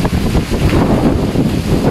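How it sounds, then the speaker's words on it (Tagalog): Strong typhoon wind buffets the microphone in a loud, continuous roar with gusty surges, close and rough throughout. "Lakas ng hangin."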